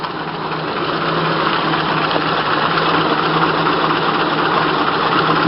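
A cold 1927 Packard 443 Club Coupe engine idles steadily and loudly close by, a constant low rumble with a faint even beat and no voices.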